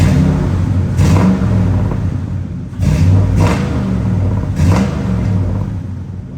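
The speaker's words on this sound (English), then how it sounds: "So I'll just rev it up a little bit here so you can hear." A 1985 Chevy C10 Silverado with a swapped LS 5.3L V8 and 4L60 automatic revs loudly in several short bursts over a deep idle rumble, recorded close with no speech.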